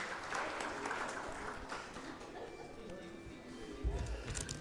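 Audience applause at a matching grants cheque distribution ceremony in Karachi, Sindh, a steady wash of clapping that holds throughout at moderate volume.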